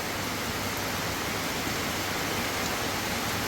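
Steady rain pours in a dense, even hiss, loud and unbroken throughout, with no voices or other distinct sounds above it.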